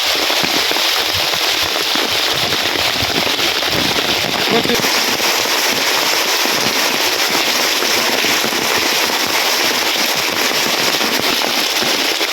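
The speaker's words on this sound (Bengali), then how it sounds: "প্রবল বেগে বৃষ্টি হইতেছে প্রবল বেগে" Heavy rain pouring down in a village during a storm, a dense, loud, unbroken hiss and patter close by that fills the whole stretch without pause.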